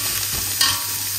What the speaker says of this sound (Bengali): পেঁয়াজটা একটু লাল করে ভাজি, বেশ ভালো লাগবে লাল করে ভাজলে।